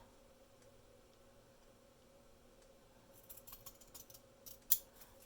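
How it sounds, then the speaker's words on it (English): Long shears slice through card stock in a quiet room, giving a short run of crisp snips that ends with one sharper, louder cut. "I'm going to make this with my long shears to try to get as straight a cut as I can"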